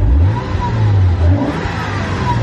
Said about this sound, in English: just such a smooth sounding engine.